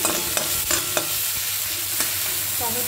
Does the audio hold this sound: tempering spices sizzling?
yes